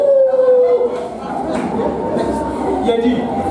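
A preacher imitates a dog's howl with a drawn-out voiced wail, followed by a murmur of crowd chatter and loose talk in a church gathering.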